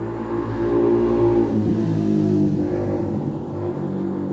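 A motorcycle engine drones close by as it passes, a steady mid-pitched rumble that swells and then eases slightly, with no talking.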